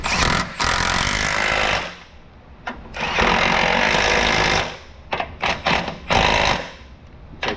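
Power tool tightening nuts on a stainless steel X-pipe exhaust of a 4.6 SOHC Ford Mustang, loud rattling impact bursts in several runs of varied length, close and harsh.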